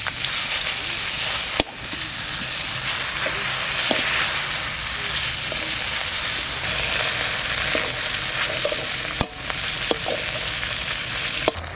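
Hilsa fish head frying in mustard oil in a pan, a steady loud sizzle with occasional sharp crackles and pops, no voices.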